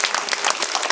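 Students in a classroom burst into a short round of applause, many hands clapping together briefly and fairly loud.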